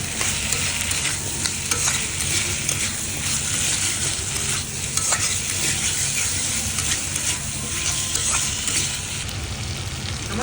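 Washed tomatoes and potatoes are stirred into spice masala frying in a pan, giving a steady, close sizzle with repeated scraping stirs throughout and no talk.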